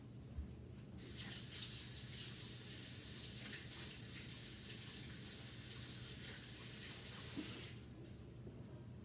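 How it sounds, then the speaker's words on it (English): Running tap water pours over gloved hands at a sink during a bath soak craft session, a steady close rush that starts after a second and lasts about seven seconds before cutting off, with no talking. "So I'm going to rinse my gloves off here real quick just to get the color off there"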